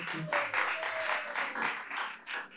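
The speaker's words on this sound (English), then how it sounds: "Please give a loud applause to them." A devotional gathering claps for senior disciples of Srila Prabhupada, a moderate-sized audience producing uneven bursts of clapping that swell and dip, with a faint sustained tone beneath.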